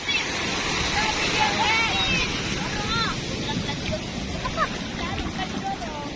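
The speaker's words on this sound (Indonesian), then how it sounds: "Ini ombak ya." Ocean surf rolling onto a beach on the coast of Aceh Barat Daya, a loud continuous wash of breaking water with people speaking and calling over it throughout.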